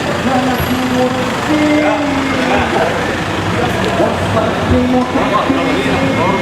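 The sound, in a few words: many cars escorting a long march procession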